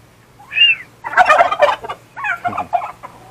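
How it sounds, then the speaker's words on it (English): A young male homestead turkey gobbles loudly and close by in two rapid warbling bursts, with a short high call before them and nobody speaking. "he's starting to gobble, gobble, gobble now"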